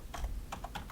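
Keys tapped on a computer keyboard while a California zip code is entered: about half a dozen light, close clicks in two quick clusters over under a second, with no talk.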